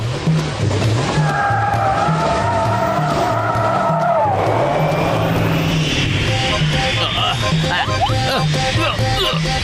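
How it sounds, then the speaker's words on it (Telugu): A cartoon flying car from an animated Motu Patlu episode speeds along with a loud roaring engine and screeching skid-like whooshes, set over busy background music, with brief voices. "మీ ఫ్లయింగ్ కారు తీసుకుని కమల్పూర్ వెళ్లే ట్రైన్ రూట్ కు రండి త్వరగా"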